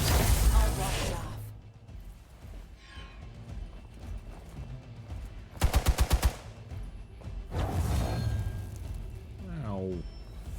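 Burst of rapid gunfire in Marvel's Midnight Suns, a short run of about seven sharp shots amid game sound effects and combat noise, with voices speaking before and after.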